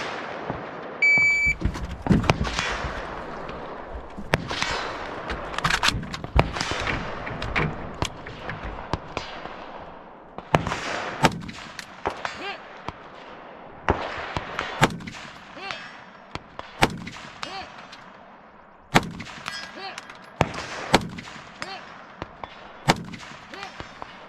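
Pistol shots ring out in a steel-target shooting match, a rapid run of sharp cracks with quick pauses between strings, loud and close, with a faint beep near the start and distant shots beyond.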